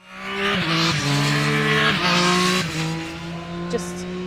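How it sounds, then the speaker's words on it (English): A Triumph Street Triple 765 three-cylinder motorcycle engine roars close by, revving up and down through several gear changes with a raspy, howling tone before easing off. "you've got the glorious sort of triple cylinder sound from the rear"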